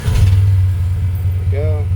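A warm 1930 Ford Model A sport coupe hot rod engine rumbles low and loud, swelling briefly as it is given a little gas, with a voice speaking near the end.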